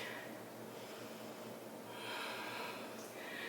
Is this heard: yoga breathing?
yes